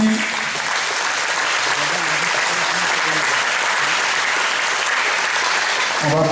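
Crowd applause for belt award recipients at a martial arts ceremony, steady dense clapping from many people filling the room for several seconds, loud and even, with a voice briefly audible at the start.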